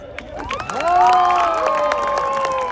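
Audience at a live mimicry show in Dublin, Ireland, swelling into loud cheering and shouting from a crowd, sustained for a few seconds without a break.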